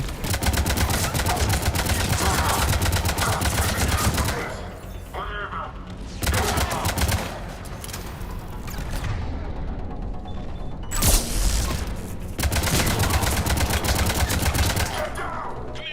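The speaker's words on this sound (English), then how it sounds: "Commander, we're getting a lot of mortar fire." Rapid gunfire and heavy mortar blasts in the Mass Effect 3 battle, long dense bursts of loud shots broken by short lulls and a sharp explosion, with voices talking underneath.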